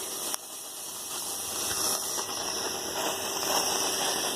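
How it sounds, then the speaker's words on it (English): A small portable steam engine vents dry steam in a steady, close hiss with a faint metallic rattle and a sharp tick near the start, swelling slightly louder toward the end. "It should be dry steam like that."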